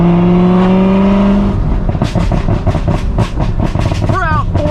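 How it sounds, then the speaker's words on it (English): A Corvette ZR1 out for a drive, its engine a loud steady drone heard from close up, with voices talking over it. "we're out for a little drive in the ZR1"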